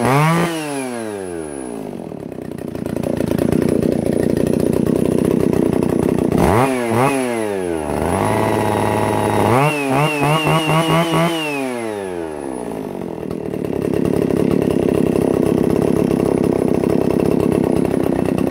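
Echo 611T two-cylinder chainsaw runs close and loud, revving up and down in several sharp bursts between steadier idling stretches.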